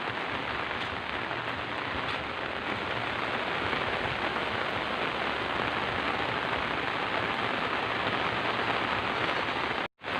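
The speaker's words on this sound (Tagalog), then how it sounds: "babalik na po tayo dun sa bahay kasi medyo malakas na yung ulan" Heavy typhoon rain in Northern Samar pours steadily and loudly onto surfaces, a dense unbroken hiss that stops abruptly at the very end.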